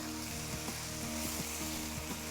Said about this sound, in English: Give that another fry.